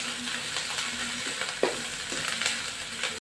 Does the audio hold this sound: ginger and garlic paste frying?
yes